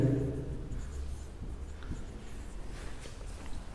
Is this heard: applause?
no